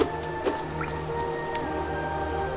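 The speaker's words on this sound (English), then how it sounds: "I don't want you splashing me." Squishy, dripping water splashes in the video game Hollow Knight, a few soft wet plops scattered over a quiet humming ambient background.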